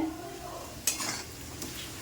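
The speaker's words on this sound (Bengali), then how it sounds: "আলু পটল মশলা দিয়ে কষানো হচ্ছে" Potatoes and pointed gourd cooked down with spices in a pan, a quiet soft sizzle broken by a couple of sharp scrapes and clinks of a spatula stirring.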